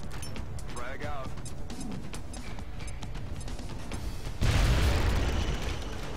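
Frag grenade going off in XCOM: Long War, a sudden loud broadband blast near the end that follows a stretch of game sounds and voices and is then sustained as a rumbling burst.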